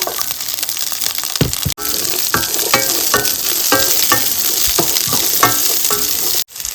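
Small whole shallots sizzle and fry in browned coconut for a jackfruit curry, a steady loud crackle with stirring scrapes and two brief breaks in the sizzle.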